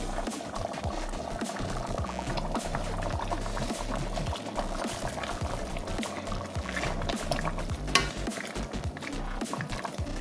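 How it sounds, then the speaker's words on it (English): Spinach going into simmering lentil soup, with continuous bubbling and wet stirring, patter and small splashes under a steady low rumble, close and moderately quiet throughout. "I'm gonna go along and add the spinach"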